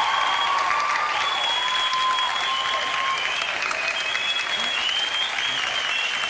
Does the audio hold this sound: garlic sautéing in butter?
no